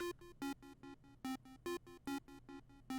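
A simple synth pluck melody loops a short, repetitive dark pattern of bright, clipped notes in a trap-style beat, evenly pulsed and upfront, with no talking.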